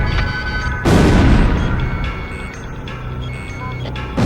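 Repeated electronic lock-on warning beeps from a fighter jet cockpit in the combat flight game Ace Combat Zero, sounding over a steady roar of engines and thudding explosions from bombing and anti-aircraft fire.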